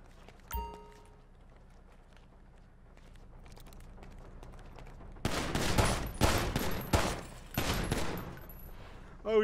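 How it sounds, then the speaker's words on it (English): A GTA video game shootout begins after a quiet, faint stretch with a single early shot, then bursts of rapid, loud gunfire erupt in clustered volleys over the second half. "Oh shit, he's shooting."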